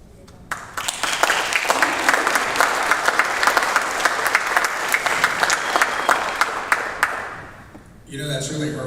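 Loud, sustained applause from a SerlingFest audience after a poetry reading, dense clapping that carries for several seconds before fading out, followed by a voice.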